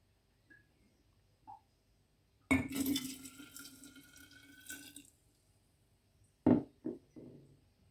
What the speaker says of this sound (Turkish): Suyun hamısını tökdüm balona.